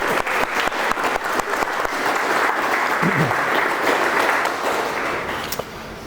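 An audience at a Dorset humanist talk gives a warm round of applause to welcome the speakers, dense clapping that holds steady for several seconds and then tapers off. A voice briefly cuts in partway through.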